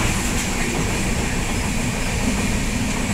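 Train travelling on the Konkan railway, a steady loud rumble of wheels and carriage noise heard from inside, continuous with no voices.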